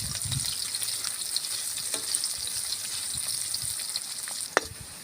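Onions and chili peppers fry in a pan with golden-browned garlic for spicy ginataang bagoong, a steady hiss of sizzling oil with faint stirring and one sharp utensil clink near the end.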